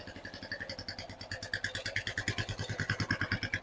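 A 1993 Suzuki GN 125 single-cylinder motorcycle idles, a rapid, even chugging pulse that grows a little louder partway through, heard close up with no talking.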